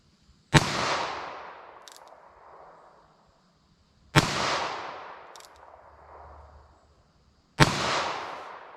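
Three sharp, loud gunshots from a short-barrel .22 Magnum handgun fired into ballistic gel outdoors, evenly spaced a few seconds apart, each with a long echoing decay and no talking.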